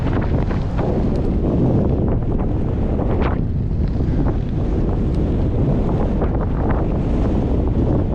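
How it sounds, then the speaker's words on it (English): Strong wind buffets the microphone during a bicycle gravel ride into a headwind, in a constant, loud roar, rumbling and gusting without pause, with no voices. "It's windy, and we're going to be going straight into it for a while."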